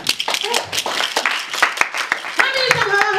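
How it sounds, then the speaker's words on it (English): A church congregation claps together at a worship service, a dense run of hand claps from many people with voices rising over it near the end. "Let's give a clap to the Lord."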